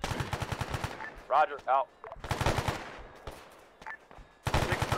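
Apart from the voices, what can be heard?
gunfire in the video game Arma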